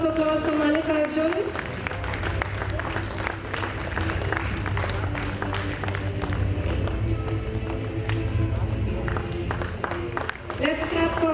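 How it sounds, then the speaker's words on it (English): Audience applause at a kids' annual day award ceremony, sustained clapping and tapping from a crowd running the whole time, with some voices and music-like tones mixed in near the start and end. "A huge round of applause for Malik Arjun."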